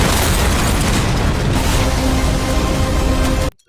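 A car explosion: a loud, sustained roaring blast with crackling debris and rumble, continuous for several seconds before cutting off abruptly.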